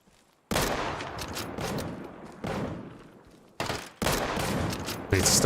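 Bursts of gunfire in the video game Deadside, several loud, sharp volleys separated by brief gaps, close and punchy, with a player's voice heard faintly at moments.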